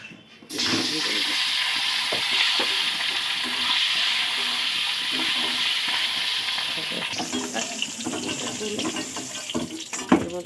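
A spice masala with ground cumin frying in a pan gives a steady, loud sizzling hiss that shifts partway through, with scattered clinks and stirring scrapes.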